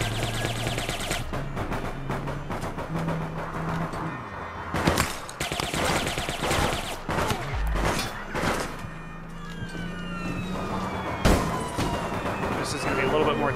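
Gunfire in APB Reloaded, scattered sharp shots and bursts ringing out amid busy game ambience and vehicle sounds, with someone talking throughout.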